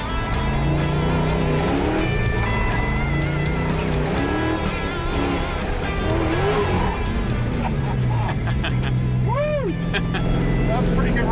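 Race car engine on an autocross course at the Power Nationals event, droning steadily with rising and falling revs and a brief tire squeal, while voices talk over it throughout.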